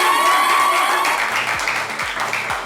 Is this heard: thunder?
no